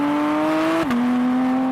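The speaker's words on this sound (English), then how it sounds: "And then there's the engine noise." A steady engine drone hums from inside a Porsche 718 Spyder RS, its pitch dipping slightly partway through as if shifting gear, continuous and moderately loud.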